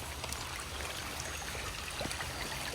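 A woodland creek on the Appalachian Trail in Pennsylvania runs over rocks in a steady close-up rush and trickle, with no talking over the continuous water.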